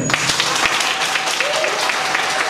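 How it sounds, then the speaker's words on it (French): Applause for the women coaching staff at a basketball camp ceremony in Porto-Novo, a continuous, fairly loud patter of many hands clapping with crowd noise beneath, steady for the whole stretch. "Il faut les applaudir."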